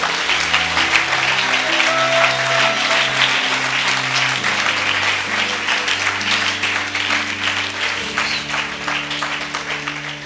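A church congregation applauds and cheers in acclaim of the Lord, sustained loud clapping filling the room, with a held instrumental tone beneath it.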